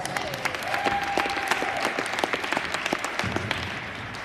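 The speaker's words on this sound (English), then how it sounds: "Everybody give these guys a round of applause." An audience gives a sustained round of applause for a group after a good swing, dense clapping carrying at moderate volume with a faint tone lingering underneath and no one talking over it.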